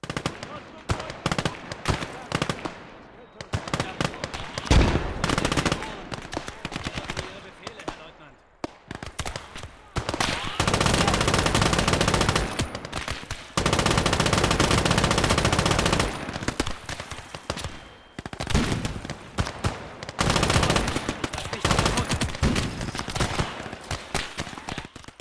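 Belt-fed machine gun fire in the WW2 strategy game Gates of Hell comes in loud, dense bursts, some long and sustained, separated by short pauses, with other gunfire around it.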